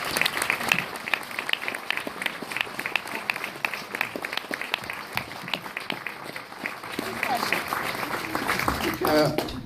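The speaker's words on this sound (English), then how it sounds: "Please join me in a warm round of applause." A bookstore audience at an author event applauds the guest, a crowd clapping that is moderately loud and busy, fading somewhat midway, with voices coming through near the end.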